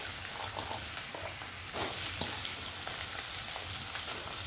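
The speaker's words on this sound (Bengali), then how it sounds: "লাল করে ভেজে নেব।" Potato pieces fry in hot oil in a pan for matar ghugni, a soft continuous sizzle with faint crackles that swells slightly after stirring midway, fairly quiet and without speech.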